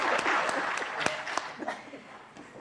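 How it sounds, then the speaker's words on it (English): An audience at a Kenyan diplomatic anniversary event at the University of Nairobi claps for a guest, the clapping strongest at first and thinning out, with a few sharp claps and a voice underneath. "Can we give him another clap for him?"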